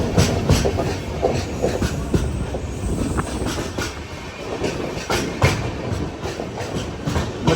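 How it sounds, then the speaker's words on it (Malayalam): The Kashi Tamil Sangamam Express, running between Kanyakumari and Banaras, sits at a station platform, with loud close rail rumble, rhythmic clickety-clack of wheels over joints and brief wheel squeals. "ഇത് കാശി തമിഴ് സംഗമ എക്സ്പ്രസ്സാ കന്യാകുമാരി ബനാറസ്"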